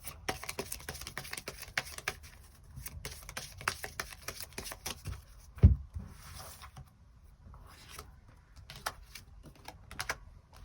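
Tarot cards are shuffled and handled for a reading, giving quick irregular papery flicks and taps, close and fairly quiet, with one louder knock midway.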